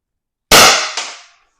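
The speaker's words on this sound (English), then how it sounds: "Shot number 6." A CO2-powered shot fired from an X.68 or BP.50 paintball marker: a single sharp, loud pop that decays over about a second, with a second smaller burst just after, no talking.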